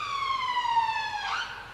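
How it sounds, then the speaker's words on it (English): An emergency siren passes outside, a loud wailing tone sweeping downward with a rising burst near the end, heard alone without talk. "Please ignore the sirens."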